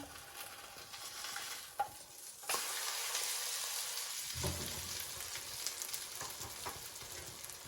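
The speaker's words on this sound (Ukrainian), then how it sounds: "Можна смажити не млинцями на всю пательню, а робити три оладки." Zucchini batter sizzles and crackles in a hot pan, a steady frying hiss that swells louder partway through, with no talking.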